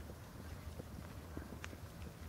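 Hooves of a horse in a riding exercise, a soft, steady run of thuds at close range against faint background noise, with no talking.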